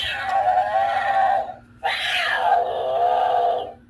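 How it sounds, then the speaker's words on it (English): An animated Halloween cat doorbell decoration plays two loud, drawn-out electronic yowling meows, close up, with a brief gap between them. "Yep, it makes cat sounds just what I expected."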